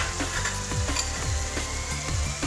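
Momo filling of vegetables being stirred with soy sauce and vinegar, a quick series of rhythmic scraping and mixing strokes close up with no talk.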